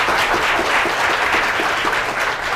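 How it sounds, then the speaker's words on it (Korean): Audience applause at a Korean university social welfare lecture as a Japanese guest professor is introduced, a loud, dense, continuous burst of clapping filling the short moment. "박수 부탁드립니다"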